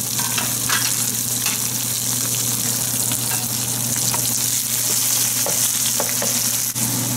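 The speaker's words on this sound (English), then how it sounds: "the lemongrass, and the paste. So let it cook till it's fragrant" Lemongrass and spice paste frying in hot oil give off a loud, dense, continuous sizzle and crackle, with occasional faint stirring knocks and a steady low hum underneath.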